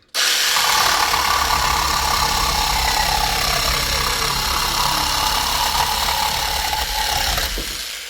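An AL-KO HS 2015 18 V cordless reciprocating saw buzzes steadily and loudly for several seconds, its motor whining as it cuts through wooden boards, then winds down.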